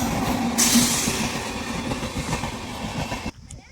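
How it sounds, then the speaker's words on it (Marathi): A train rolling past a closed railway crossing at Devadi, loud and close with steady clattering wheels and a brief high squeal, cutting off abruptly near the end. "हे रेल्वे पाहतो"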